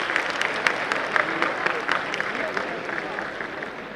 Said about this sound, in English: first we should applaud because she was bold enough to